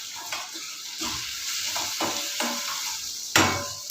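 Salted potatoes cook in a pan, stirred with repeated scraping strokes over a constant sizzle, ending with a sharp louder clatter; no talking.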